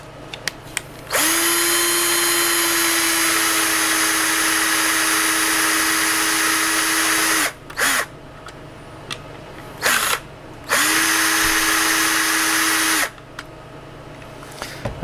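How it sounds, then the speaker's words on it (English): Cordless drill driving a long, very hot bolt through metal during assembly of a USB sequential gear shifter, then tapping a thread: two sustained, loud whirring runs with steady motor pitch, separated by brief pauses and short bursts, with no talk. "a cordless drill will make neat work of this"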